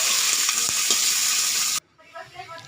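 Chopped onions are stirred in hot oil with dried red chilli and cumin, giving a loud, dense sizzle with a couple of utensil knocks before it cuts off abruptly to near quiet.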